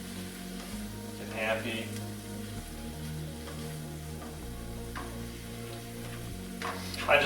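Grilled chicken sandwich ingredients sizzling as they cook down: a soft, steady frying hiss with a few stirring scrapes, under background music and a brief spoken line.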